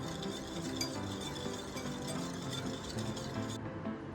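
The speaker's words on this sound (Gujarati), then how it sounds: "બે ત્રણ ટીપા આપણે વેનેલા એસેન્સ એડ કરશું એક મિનિટ માટે પાછું મિક્સ કરી લઈશું" Cake batter being mixed by hand after a few drops of vanilla essence go in for a chocolate cake, a soft steady stirring and scraping with faint utensil clinks, close and quiet with no talking.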